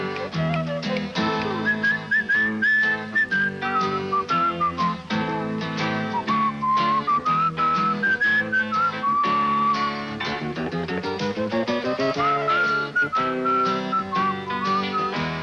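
A person whittling wood whistles a wandering, melodic tune over a continuous musical backing, the whistled line rising and falling steadily for the full length.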